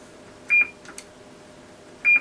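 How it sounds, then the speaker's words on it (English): Two short, bright electronic beeps from a President HR2510 CB radio transceiver under repair, about a second and a half apart, close and clear, with faint clicks between them and no talking. "obviously the beep goes off"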